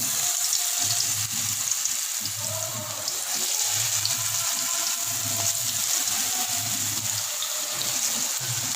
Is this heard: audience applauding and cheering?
no